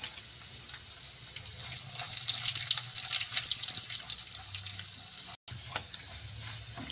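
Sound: cashews and almonds frying in hot ghee

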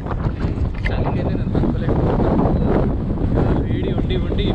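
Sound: strong wind blowing outdoors

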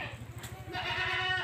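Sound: goats bleating

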